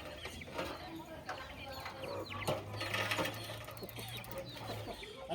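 Chickens clucking in an outdoor farmyard, with short intermittent calls over a steady low hum and background voices.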